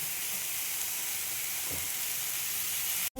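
Drumstick stalks go into a hot pan of vegetables for sajne data chorchori, giving a continuous close sizzle and hiss that cuts off abruptly at the end, no voices.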